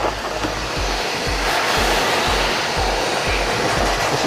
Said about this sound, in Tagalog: gagamitan po natin ito ng vacuum cleaner o yun pong parang blower po dun sa vacuum